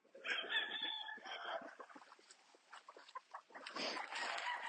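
Gamefowl chickens in a chicken yard cluck and squawk nearby in uneven bursts, with one longer crowing call at the start.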